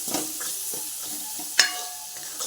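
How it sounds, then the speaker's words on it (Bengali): Tomato cooking down with salt, turmeric, chili, cumin and coriander powder in a pan, a soft sizzle under scraping stirs with a sharp utensil clink partway through. "সব কিছু মশলা দিয়ে এটাকে ভালো মতো কষাতে হবে"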